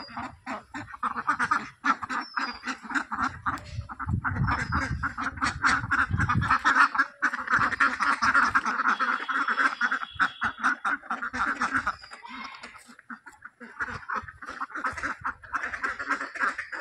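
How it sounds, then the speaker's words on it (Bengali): Many ducks of various colours quack at a large pond in a garden, a dense, overlapping chorus of nasal calls close by, with a few honking notes mixed in. "বড় জলাশয় থেকে কত হাঁস দেখুন এখানে"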